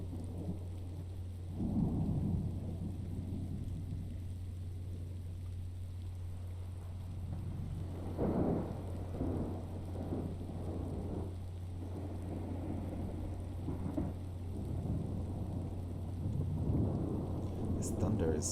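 Heavy thunderstorm in the Fallout: New Vegas video game, with rumbling thunder rolling in repeated loud bursts over a steady bed of rain, a low constant hum underneath and some voices talking over it.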